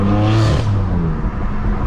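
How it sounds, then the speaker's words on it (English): A BMW M4 fitted with an AWE Track Edition exhaust in efficient mode revs loudly and close by, a rising, droning engine note that eases off into a steady rumble. "Track Edition exhaust is crazy."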